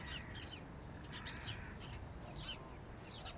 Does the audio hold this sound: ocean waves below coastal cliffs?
no